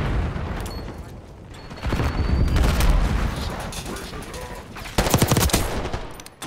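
Heavy gunfire from the video game Call of Duty: Black Ops 6 rattles in repeated bursts, with loud clusters of shots and booms rising and falling over a busy battle backdrop.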